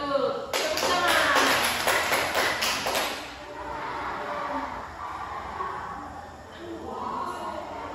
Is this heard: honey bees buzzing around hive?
no